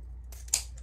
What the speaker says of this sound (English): So now I'm gonna come and cut off my 10 inch tail here.